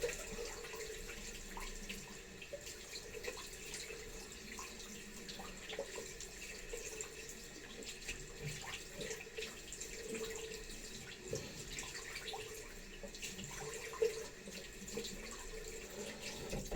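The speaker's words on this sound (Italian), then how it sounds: "sciacquatina con acqua fresca" Fresh tap water runs steadily from a faucet into a sink as a face is rinsed after shaving, a continuous close splashing hiss with small spatters and no voices.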